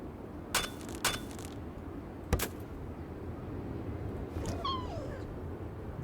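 A cat in the video game Christmas Stories: Nutcracker gives a short meow near the end, preceded by a few sharp clicks over a low, steady background hum.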